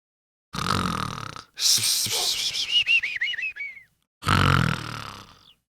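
A person imitates snoring with exaggerated breathy rasps and a rising, warbling whistle, in two or three close, loud bursts separated by silence.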